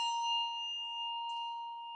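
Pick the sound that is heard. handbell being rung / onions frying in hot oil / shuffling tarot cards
handbell being rung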